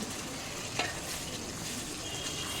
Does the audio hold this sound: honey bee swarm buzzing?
no